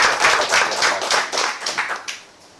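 An audience at an indoor business seminar claps together, a dense patter of hand claps that holds steady for about two seconds and then thins out and fades.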